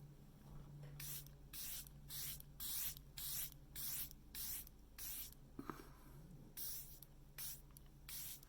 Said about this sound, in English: let's spray up this powder foundation so you can get a look